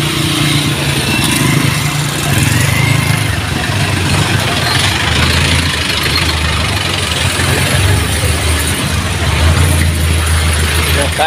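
A jeepney engine rumbles continuously during a ride, a loud steady mid-to-low drone with shifting throttle, mixed with road and street noise throughout.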